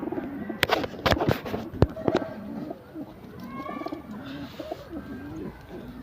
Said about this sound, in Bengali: এই যে আমার বাড়ির সবুজ রং গিরিবাজ লাইনে পায়রা